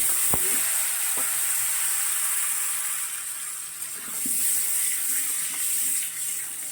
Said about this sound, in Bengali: আলুগুলো একটু লাল লাল করে ভেজে নেব, তারপর তুলে নেব